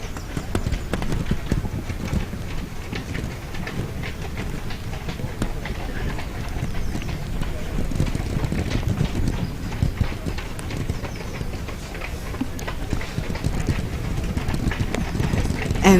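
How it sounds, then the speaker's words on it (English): Horses' hooves clip-clopping steadily during the 2015 Barbados Independence Day Parade, a continuous rhythmic clatter heard outdoors amid crowd noise and announcements. "the ground would be a bit too soft for the horses' hooves"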